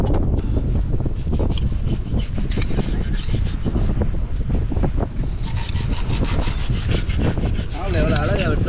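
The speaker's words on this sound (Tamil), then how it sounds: "ஒரு மிகப்பெரிய திருக்கியை வந்து நம்ம கருவாடு செய்யறதுக்காண்டி இப்போ வெட்ட போறோம்" A knife cuts through a large 50 kg stingray, prepared for salting and drying, in steady scraping, sawing strokes that run continuously and loudly outdoors, with wind buffeting the microphone.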